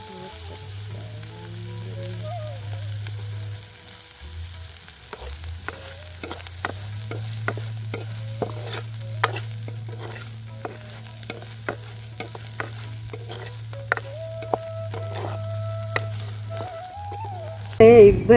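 An egg fries and is stirred in a pan, a steady sizzle running throughout with repeated sharp scraping clicks of the utensil against the pan, fairly close and moderately loud with no talk.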